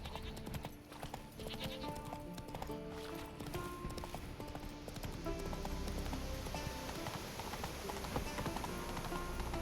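Roach, the horse in The Witcher III, trots along with steady clip-clopping hooves under a constant bed of game music and ambience, the hoofbeats fairly close but partly buried in the mix.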